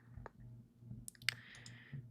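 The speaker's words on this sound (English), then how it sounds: "What am I even clicking on?" A computer mouse clicks a few times in a quiet room, small dry taps with a low hum underneath and a brighter clicking flurry near the middle.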